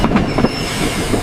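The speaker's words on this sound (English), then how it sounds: "The train is on time." A train running on rails somewhere in France, a steady rumble with soft rhythmic clatter of wheels over track joints, continuous and close, no voices.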